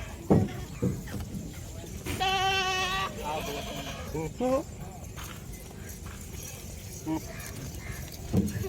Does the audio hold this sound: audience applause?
no